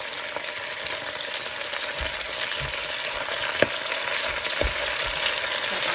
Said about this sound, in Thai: เราก็จะใส่ผัดลงไปเลยนะคะ ใส่ให้เต็มเลยเดี๋ยวมันดุ๊บ แล้วเราก็จะคนนะคะ